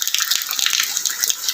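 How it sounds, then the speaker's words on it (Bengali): Heavy rain pours steadily onto a tin roof during a downpour, making a dense, close hiss broken by irregular sharp taps and drips. "আর বৃষ্টির সময় টিনের চালের যে"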